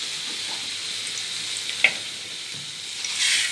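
Ghee and oil sizzle in a cooking pot set out for rice, a steady soft hiss throughout with one brief clink near the middle and the frying swelling slightly louder toward the end; no voices.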